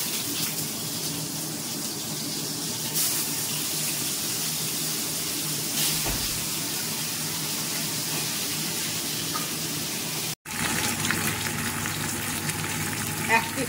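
Fish fries in a pan at home, a continuous close sizzle and crackle running steadily throughout, with a brief cut near the end and a faint voice in the background.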